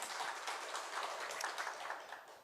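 Congregation applauding during a Sunday church worship service, a dense, steady patter of many hands clapping together that fades slightly toward the end.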